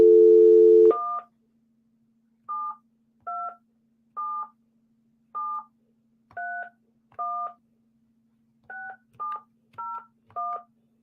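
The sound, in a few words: telephone DTMF dialing tones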